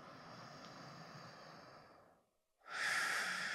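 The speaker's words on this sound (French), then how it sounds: "On prend une respiration ici." A deep breath taken during a winter vinyasa yoga session, a long steady breathy inhale followed by a brief pause and then a stronger, brighter exhale, close and alone with no talking.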